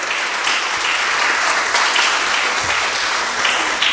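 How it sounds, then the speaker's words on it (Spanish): A church congregation at a Spanish-language worship service claps steadily and fairly loudly, a thick continuous wash of applause with no break and no speech. "Vamos a darle un aplauso al Señor."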